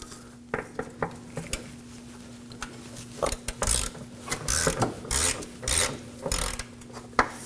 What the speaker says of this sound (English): Now we can break loose the third bolt.